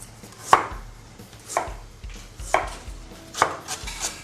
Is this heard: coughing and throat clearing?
no